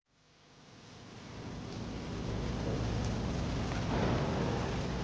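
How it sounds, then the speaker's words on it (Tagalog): Heavy rain pours down suddenly at dusk, a broad hiss that swells from nothing to a steady, dense roar within a few seconds. "biglang bumuhos ang malakas na ulan"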